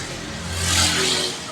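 A Toyota Corolla FX GT with a 20-valve black top engine revs up close, a rough mid-pitched roar swelling to a peak and easing back over a second and a half, with no one talking.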